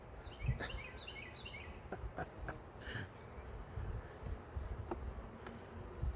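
Bees from an opened hive under inspection hum in a low, steady drone, with scattered clicks and brief chirps over a faint background.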